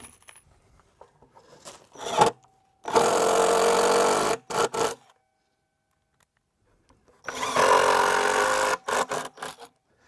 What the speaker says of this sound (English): we just screw them on from the inside